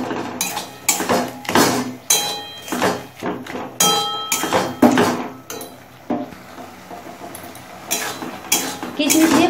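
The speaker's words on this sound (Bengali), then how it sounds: "কিশমিশ দিয়ে খুব ভালো করে মিশিয়ে নিয়েছি" Raisins stirred into a thick five-fruit chutney in a pan: a utensil repeatedly scrapes and knocks against the pan in uneven strokes, close and fairly loud, with brief pauses between bursts.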